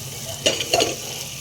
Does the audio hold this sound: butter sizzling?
yes